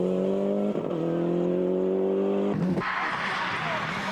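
A Toyota rally car driven flat out at the 1997 Ypres Westhoek Rally in Belgium, engine droning at a steady high pitch, then a sharp gear change and a rough, louder burst of acceleration as it nears, with commentary voices over it.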